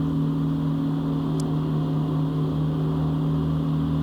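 Gianni Ferrari ride-on mower engine holding steady revs while cutting thick grass on a slope, a constant even drone with a strong low hum, close and loud throughout with no talk.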